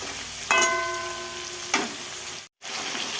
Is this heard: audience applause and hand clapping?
no